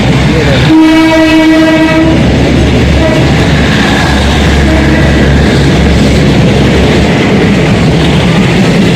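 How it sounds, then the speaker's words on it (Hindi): Train on a single-track railway in Thailand sounds a long horn blast early, then rumbles past with continuous heavy clatter of wheels on rail, loud and close for the whole stretch. "ये देखो मेरे पीछे फिर से दोबारा फिर ट्रेन आ रही है।"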